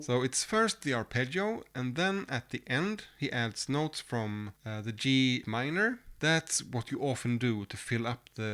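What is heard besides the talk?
None of the usual background noises is heard.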